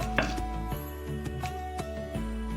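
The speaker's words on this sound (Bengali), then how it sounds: "এবার আমরা কিছুটা কাঁচা লঙ্কা, পুরো বাটবো না, মোটামুটি থেতো করে নেব।" Green chilies are roughly crushed for a Bengali-style chicken kasha, making a series of sharp, fairly quiet knocks at an uneven pace over a steady background hum.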